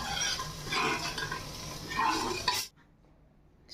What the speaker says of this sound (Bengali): এটা ডালে ছকা দেবো।